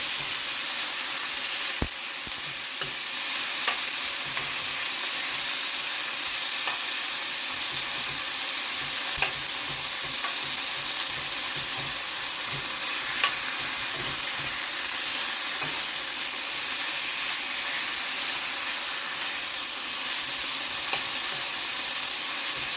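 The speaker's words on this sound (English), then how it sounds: "You get a quick sear." Stir fry searing in a hot pan: a loud, dense, continuous sizzle with faint stirring scrapes, close and steady throughout, no talking.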